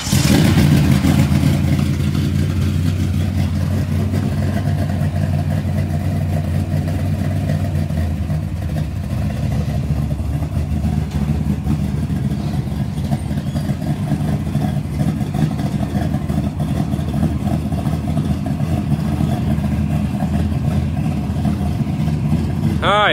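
A drag car's engine with a Turbo 400 transmission idles loudly and steadily, then revs, with a chatty low rumble. People talk over it throughout.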